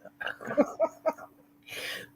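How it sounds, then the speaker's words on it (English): Several short, sharp coughs in quick succession from a person during a livestream, close and fairly loud, followed by a breathy exhale. "I'm sorry for my cough, though."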